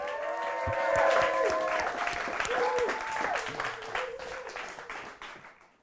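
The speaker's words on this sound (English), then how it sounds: "Let's get another round of applause" Audience applause at a charity music event, clapping building and then fading out, heard beneath sustained musical tones and some voices.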